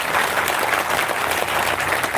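Crowd clapping at a farmers' protest rally, a dense, steady wash of many hands filling the whole moment at close range with no pause.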